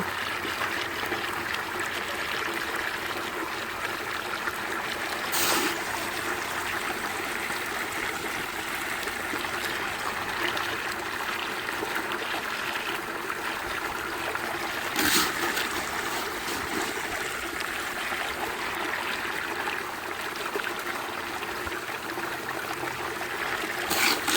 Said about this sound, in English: Trust the sluice is going to do its job.